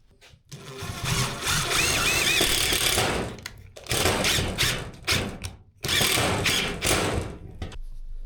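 Power driver running screws into welded aluminum framing on a camper build, several loud bursts of whirring motor of one to three seconds each, close and separated by brief pauses.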